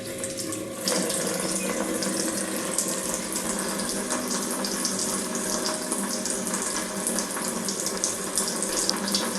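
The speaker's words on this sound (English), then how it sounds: "And now let the water flow." A household tap runs water into a sink in a steady, full rush that begins abruptly and continues unbroken, close and fairly loud with no talking.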